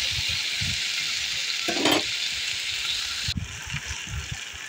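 Food sizzling and frying steadily in a pan while being stirred, with soft scraping and stirring knocks over the constant hiss and a brief louder burst midway.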